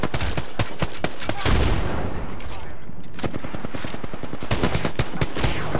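Rapid bursts of automatic gunfire from an Apex Legends firefight, loud dense volleys with a brief lull midway, then sustained firing again, with faint voices underneath.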